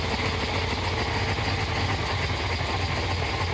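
A 1977 Chevrolet Corvette C3 with a carburetor needing tuning idles close by, a steady, loud, unbroken engine rumble with no talk.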